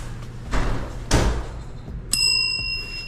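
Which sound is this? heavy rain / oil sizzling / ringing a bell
ringing a bell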